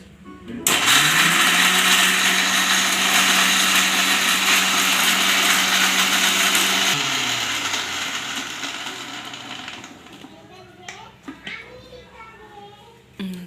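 A kitchen mixer grinder blends horse gram chutney, starting abruptly with a loud steady motor whine that runs about six seconds, then slows and winds down, followed by brief clatter and voices.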